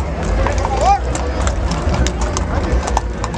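Horses clip-clop on pavement during a livestock expo protest march in Hermosillo, Sonora, with steady, fairly close hoof beats, a brief whinny, and people talking over the crowd.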